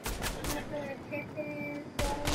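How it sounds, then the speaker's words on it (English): Gunfire in the video game Fortnite, a few sharp bursts of shots cracking at the start and again near the end, with faint game tones ringing between them. "There's some gunshots going."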